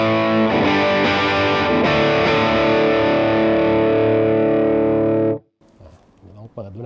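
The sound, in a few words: electric guitar through Laney LV300 Twin amp, VTS off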